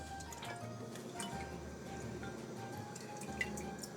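A raisin wine mixture with cloves and other spices is stirred in a container, producing faint liquid sloshing, drips and occasional light clinks, close by but quiet.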